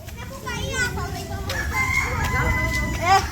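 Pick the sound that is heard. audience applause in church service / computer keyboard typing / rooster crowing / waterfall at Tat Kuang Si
rooster crowing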